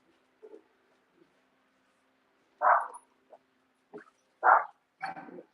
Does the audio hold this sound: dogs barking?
yes